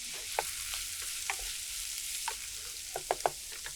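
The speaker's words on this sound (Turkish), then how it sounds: "spatula ile iyice karıştırın" Soft sizzling of vegetables frying in a pan with salt and black pepper, with several sharp scraping clicks of a spatula stirring at irregular intervals.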